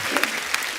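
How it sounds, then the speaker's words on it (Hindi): Studio audience at a comedy talk show bursting into brief, moderately loud clapping, a short burst of scattered claps. "इनके लिए जोरदार ताली हो जाए यार।"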